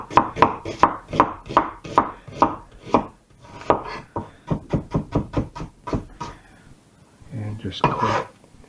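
A knife chops fried chicken liver and onions on a board for pâté, sharp rapid strikes in quick rhythmic runs, close and clear, with a short scraping sweep near the end.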